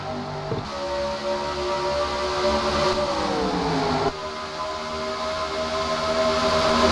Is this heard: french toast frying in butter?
no